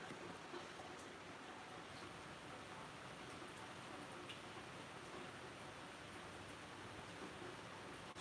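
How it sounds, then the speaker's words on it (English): Steady rain falls in an even, unbroken hiss of drops on surfaces, soft and constant throughout, with faint scattered ticks of individual drops and no voices. "Steady old rain now."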